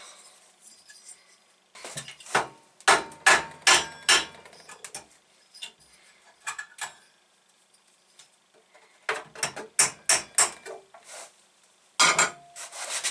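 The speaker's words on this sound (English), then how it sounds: "Bit of a hammer." Sharp metallic taps and clanks come in rapid bursts with short pauses, like hammering on pocket bike engine parts during a rebuild, close up with no talking.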